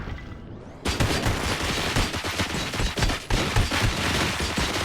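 Sustained heavy gunfire from the RoboCop video game, starting abruptly after a brief near-silent moment and continuing as a dense, loud, rapid volley with no voices over it.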